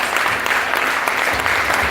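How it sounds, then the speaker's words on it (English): An audience claps together at a motivational event, a dense, loud burst of applause filling the whole moment without pause. "Come on, I can't tell the sound of a clap."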